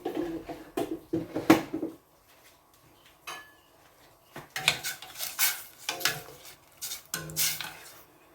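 A metal lid goes onto a cooking pot of chicken arroz caldo with egg, with several clanks and clatters of metal against metal in bursts separated by quiet gaps, close and fairly loud.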